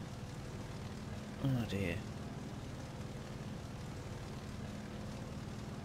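Propeller engine of a Hawker Tempest fighter in the War Thunder flight sim, a steady droning hum running throughout, with a brief spoken exclamation near the start.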